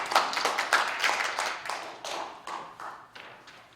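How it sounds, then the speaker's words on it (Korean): Applause for a keynote lecturer at a Korean NGO newspaper forum on fairness, a scattered, moderate patter of hand claps that thins out and fades over a few seconds. "박수로 함께 하겠습니다."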